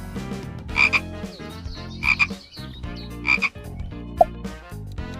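Frogs croaking in a repeated series of loud, close, raspy calls, roughly three bursts about a second apart, with no speech.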